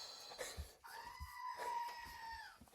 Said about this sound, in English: Oh, the Screaming Goat, of course.